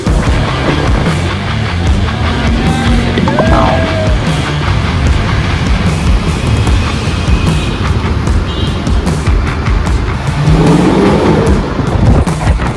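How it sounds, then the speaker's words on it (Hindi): A supercar switched into sport mode roars and growls steadily throughout, loud and close, with the engine note rising and falling against a constant heavy rumble as it drives on a public road. "ये आगे स्पोर्ट मोड आवाज ही आने लगी गाड़ी में अलग ही।"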